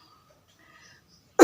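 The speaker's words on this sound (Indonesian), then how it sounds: "Maaf ya, saya batuk lagi." A single short cough bursts out at the very end, loud and close, after near-silence.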